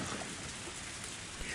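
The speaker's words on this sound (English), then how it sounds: "This sudden rain has us in a bit of trouble." Rain in the visual novel game Higurashi, a steady dense hiss of heavy rainfall on surfaces, even and close throughout, with no other sound standing out.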